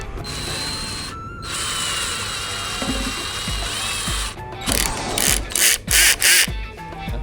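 A power drill whirs steadily for several seconds, then runs in short on-off bursts near the end, with clattering handling noises throughout.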